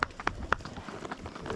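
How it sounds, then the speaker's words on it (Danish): Horse hooves clip-clop during quadrille riding training, a few quick, faint irregular thuds with a soft scuffing rhythm under a distant murmur. "Hun er en skøn hest, altså."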